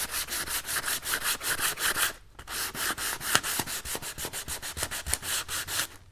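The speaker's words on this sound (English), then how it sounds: "if I kind of sand that back, I can really create some cool" Hand sanding back a cracking plaster finish, in quick rhythmic rasping strokes, close and clear, with a brief pause partway through before the strokes resume.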